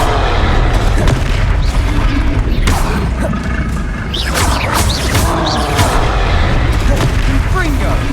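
Confringo explosive spells cast during a troll fight in Hogwarts Legacy, a steady barrage of heavy booms and blasts over a loud, dense rumble, with voices shouting through the din.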